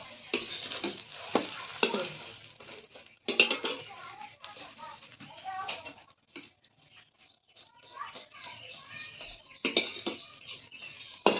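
A folded egg omelette frying in a pan, with an uneven sizzle broken by utensil clatter and scraping, some quieter gaps and a few voice-like sounds in the background.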